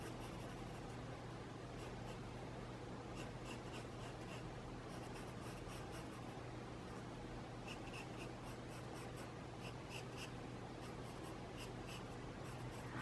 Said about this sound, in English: I'll take my pencil. I'm gonna go around each of these